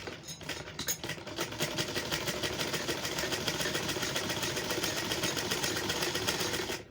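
A sewing machine runs a continuous line of stitching along fabric for a garment sleeve, a steady, even rattle that holds for several seconds at moderate volume with no voices.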